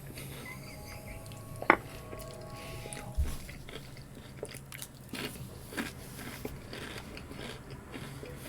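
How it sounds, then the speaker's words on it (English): Crisp crunching bites of food taken close to a sensitive microphone, with one sharp crunch early and softer chewing crackles scattered through a quiet room. "this mic's sensitive so you can hear me crunching"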